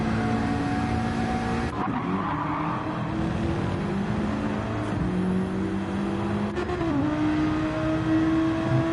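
Race cars screaming at high revs through a sim racing practice session, a BMW among them, with loud continuous engine drone, shifting pitch sweeps and brief tire-slip moments as cars slide wide, no voices over the roar.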